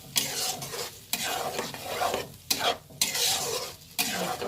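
Spices and mashed potatoes frying in a pan for an egg and potato ghanti dish, with a spatula scraping and stirring in uneven strokes over a steady close sizzle, no voices.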